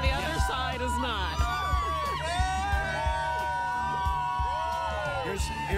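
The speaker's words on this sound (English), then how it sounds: "One side is cheering, the other side is not." A studio audience cheers and whoops, a dense crowd roar with shouts rising over it, steady and loud throughout, with voices calling out amid the noise.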